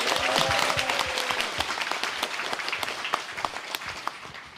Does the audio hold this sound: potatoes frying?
no